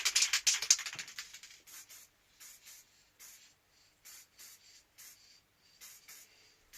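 Short bursts of spray paint hiss from a can coating small Honda CB250RS motorcycle parts, first a quick run of close sprays, then evenly spaced brief puffs.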